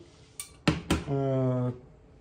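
Cookware clanks twice as it is set down onto a cooktop, two sharp metallic knocks followed by a brief ringing hum, heard close and alone.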